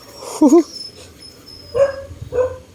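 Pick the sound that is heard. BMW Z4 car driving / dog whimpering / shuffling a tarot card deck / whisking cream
dog whimpering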